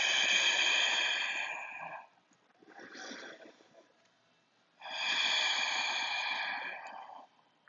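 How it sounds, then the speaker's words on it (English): Slow, deep breathing held in yoga downward facing dog during a vinyasa flow, a long audible breath, a quieter pause, then another long breath, close and breathy. "Let's be here for 3 breaths in and 3 breaths out."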